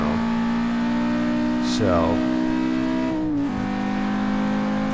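Audi RS2 engine pulling hard through the gears on a hot lap at the Hockenheim Ring, a steady loud in-car drone with a quick gear change partway through and a brief spoken word over it.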